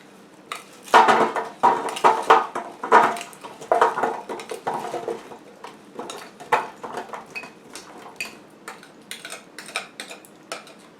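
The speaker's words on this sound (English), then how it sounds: "Pour my vegetables in here after I have stirred them" Chunky vegetables tumble into a baking pan in a busy run of clattering, rattling impacts that gradually thin out into scattered light taps.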